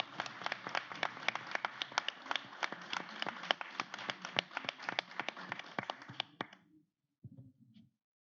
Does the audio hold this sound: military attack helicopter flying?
no